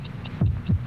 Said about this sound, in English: 72 heartbeats.